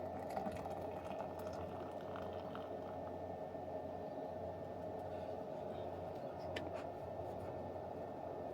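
Liquid at a steady boil in a large rice cooker inside a van, a constant dense bubbling rumble running close and unbroken throughout.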